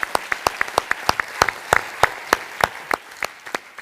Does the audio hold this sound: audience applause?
yes